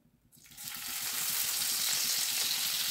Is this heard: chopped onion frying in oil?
yes